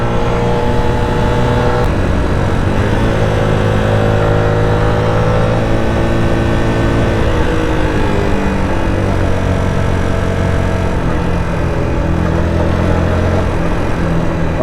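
Small cc motorcycle engine riding along a road, a loud steady drone with shifting pitch as the bike holds speed and eases off, continuous close to the rider throughout.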